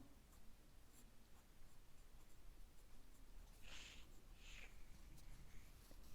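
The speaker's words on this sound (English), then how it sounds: "Now, let's write 做" Pen handwriting the Chinese character 做 on paper, with faint, close scratchy strokes and two brief louder scrapes against a steady low background hum.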